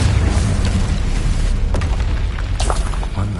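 A Confringo spell explodes in the Hogwarts Legacy video game, a loud, sustained rumbling boom with crackling debris that stays dense and heavy throughout, with no voice over it.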